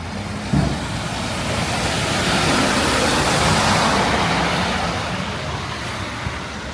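Loud car traffic passes on a road outside, a steady broadband roar of tyres and engines that swells toward the middle and then eases, with one faint thump early on and no voices.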